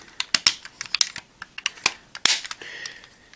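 Sharp plastic clicks and snaps from Go-Buster toy parts being folded into a combined form, a quick irregular run of close, crisp taps with one louder snap near the end.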